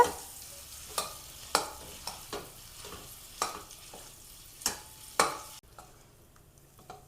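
Mashed nendran banana sautéed in ghee in a kadai over a low flame, soft background frying punctuated by about eight sharp, regular spoon strokes against the pan, then falling quiet; no talking.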